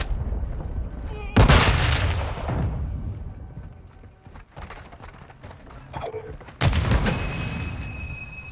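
Cruise missile strikes exploding in Call of Duty: Modern Warfare II, two heavy booming blasts several seconds apart, each trailing into rumbling debris and crackle, with radio chatter and game sounds in between.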